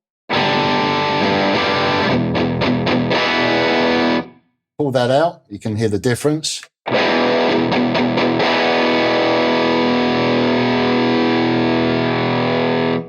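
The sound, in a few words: electric guitar through small transistor mini amp, bass control adjusted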